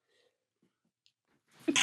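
After a near-silent stretch with faint rustling, a single short, breathy burst erupts at the end, like a sneeze.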